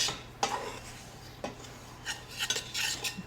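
A utensil scrapes and clinks against a pan while butter and flour cook together, producing soft irregular stirring and scraping sounds, fairly quiet and close, over a faint steady background hum.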